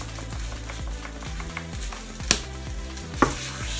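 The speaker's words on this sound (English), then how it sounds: "So I'm going to give that a good stir up." Chicken and vegetables with crushed chilies, cayenne and smoked paprika are stirred in a hot pan: a steady sizzle with a few scraping knocks of the utensil, close and without talk.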